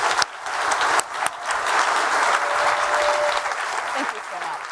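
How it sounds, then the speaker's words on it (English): Sustained audience applause from a crowd at a live-streamed event welcoming a guest on stage, dense and steady clapping that swells briefly and holds for nearly five seconds with faint voices mixed in. "let's just give a huge round of applause to Elon."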